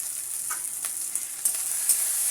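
Green chilies, tomato and cumin paste frying for a mutton curry, a steady close sizzle broken by a few soft crackles and stirring clicks, with no talk.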